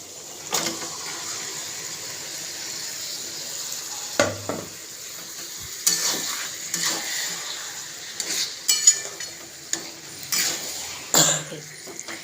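Meat and spices stirred and fried in a kadai: repeated scraping stirs over a steady sizzle, close and moderately loud, with a couple of coughs in between.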